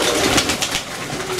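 Healthy pigeons feeding on pellet feed make close, soft cooing and shuffling sounds in one short continuous stretch.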